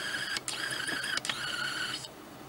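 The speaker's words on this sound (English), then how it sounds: "you're going to hear noise, guys. I'm going to turn the autofocus on." The autofocus motor of a camera whirs in a thin, high mechanical whine close by. It runs steadily for about two seconds, broken by a couple of clicks, then stops.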